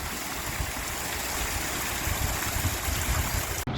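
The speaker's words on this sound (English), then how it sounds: "The water's properly pouring through the wall there." Water pouring through a leaking canal lock wall at Gargrave on the Leeds and Liverpool Canal, a steady, close rushing and splashing that runs unbroken throughout.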